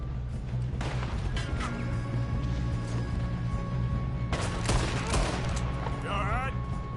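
Bursts of gunfire in a PS4 video game shootout during a robbery, fairly quiet and mixed with game music and a steady hum, with short volleys standing out near the start and middle.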